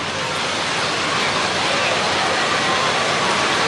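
Heavy rain pours onto a stadium roof during a wet, windy Saturday afternoon football match in Launceston, a dense, steady roar of downpour that fills the space without a break, loud and close.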